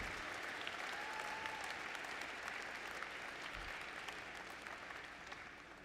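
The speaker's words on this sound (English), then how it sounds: "How about one more big round of applause for our amazing students?" Sustained, dense applause from a large audience at a college presidential inauguration ceremony fills the space, steady and unbroken before gradually tapering.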